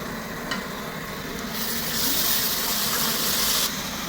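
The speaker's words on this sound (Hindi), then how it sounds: "अब हम डालने लगे हैं अदरक लहसुन ग्रीन मिर्च का पेस्ट" Ginger, garlic and green chili paste hits browned meat in a hot pan, giving a steady close sizzle that swells into a louder, hissing frying burst before easing back, with occasional stirring.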